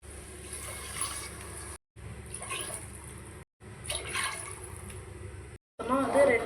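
Water is poured into a pot of basmati rice for paneer biryani, a steady splashing rush in three bursts separated by short gaps, close and fairly loud, with a louder splash at the end.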